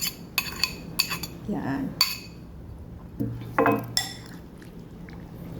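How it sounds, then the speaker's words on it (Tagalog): Beef tapa marinade is stirred in a bowl, with utensils clinking and scraping against the dish in bright irregular taps and a few wet swishes, and a brief word spoken. "Tsaka haluin ng haluin."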